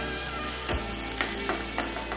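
Spinach and onion sauté in a pan for a stew with a low, steady sizzle, punctuated by a few scraping stirs and light clicks of a spoon against the pan.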